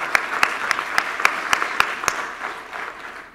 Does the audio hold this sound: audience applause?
yes